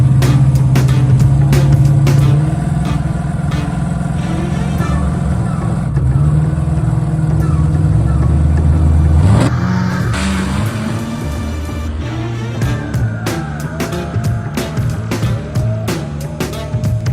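A drag race car on a test pass gives a loud, sustained engine roar that builds and shifts character partway through, then carries on with rough, rattling mechanical noise.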